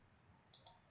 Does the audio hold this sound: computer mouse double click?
yes